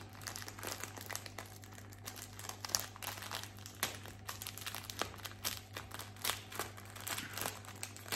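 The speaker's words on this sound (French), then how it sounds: "désolée pour le bruit du papier." Paper packaging holding diamond painting supplies crinkles and rustles close up, irregular soft crackles and crumples over a faint steady electrical hum, with no one speaking.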